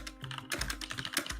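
A computer keyboard or mouse being clicked rapidly and repeatedly, close up, in a quick uneven run of sharp taps with no talking.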